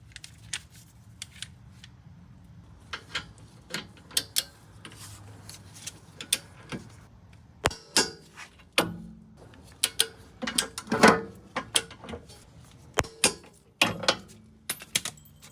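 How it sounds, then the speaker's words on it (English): On a Lexus RX350, a torque wrench tightens the rear brake bolts with a series of sharp, close metallic clicks and ratcheting ticks, spaced irregularly and increasing toward the end. "We're going to torque these guys down to 79 foot-pounds."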